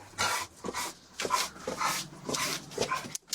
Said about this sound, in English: I can't hear you with the dogs.